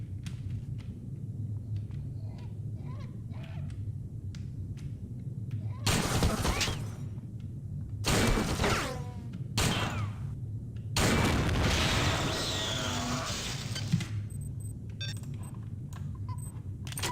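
Turret gunfire and explosions in System Shock 2, several loud bursts of blasts and shattering crashes separated by quieter humming stretches, close and harsh, with no talk.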